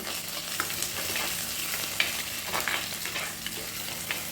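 Ginger and garlic frying in oil with browned onions, a steady close sizzle and crackle broken by light spoon scrapes as the pan is stirred, no voices.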